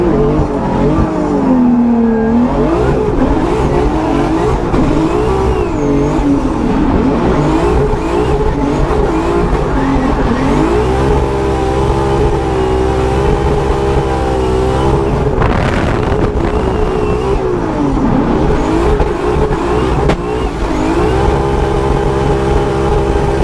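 A drift car driven hard, its engine revving loudly and rising and falling in pitch through repeated accelerations, with tire squeal mixed in, close and continuous with no talking.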